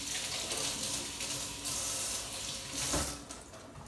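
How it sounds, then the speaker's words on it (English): Tap water streams over a fennel bulb as it is washed and rubbed in a kitchen sink, a steady close hiss with small splashy changes and one brief louder gush. "I'm gonna run some water on it and rub it with my fingers"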